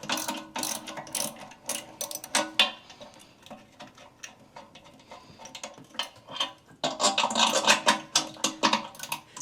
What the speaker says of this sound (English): And I'll grab the screwdriver and hold the screw